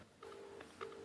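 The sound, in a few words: telephone ringing on a call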